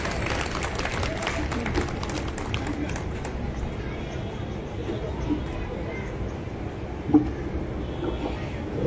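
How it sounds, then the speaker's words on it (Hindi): An audience at a Holi gathering claps loudly for a few seconds, then the applause thins and fades while voices carry on underneath. "जोरदार तालियां बजाइए।"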